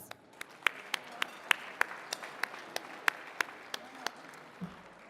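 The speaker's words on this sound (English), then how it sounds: "Let's give her a round of applause." Slow, scattered claps from a small audience at the Bryden Alumni Awards 2018, about fifteen evenly spaced sharp hits, faint against a quiet room.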